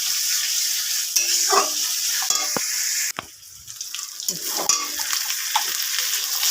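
Potatoes sauté in hot oil with spices and a little Kashmiri chili, giving a steady close sizzle broken by occasional scrapes and clinks of stirring against the pan.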